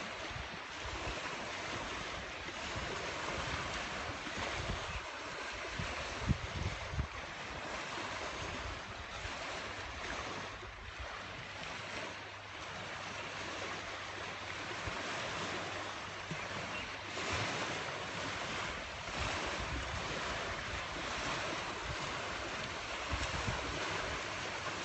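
Waves wash steadily onto the Sea of Galilee shore at Tiberias, Israel, before sunrise: a continuous, even rush of surf with wind noise buffeting the microphone throughout.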